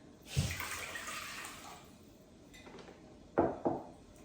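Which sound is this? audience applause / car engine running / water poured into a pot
water poured into a pot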